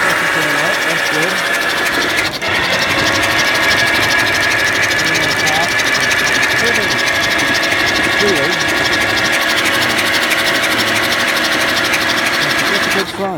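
An Allis Chalmers Model B tractor engine runs at a steady idle with a fast, even mechanical clatter, close and loud throughout, while people talk over it.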